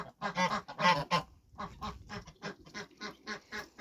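Several ducks quack in quick, repeated bursts, close by and fairly loud, with an irregular rhythm and no talking.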